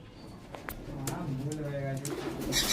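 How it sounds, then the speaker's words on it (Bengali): Pigeons in a loft coo softly in a low, steady murmur, with a few brief wing or bird calls in the background and some speech nearby. "এই দেখুন পায়রা দেখতে পাচ্ছেন কেমন"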